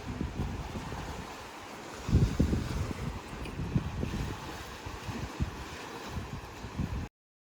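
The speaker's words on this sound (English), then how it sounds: "It's a bit windy out and it's snowing." Wind gusts around a remote Alaskan dry cabin on a snowy night, a steady low rushing roar that swells and buffets irregularly, moderately loud and close with no voices.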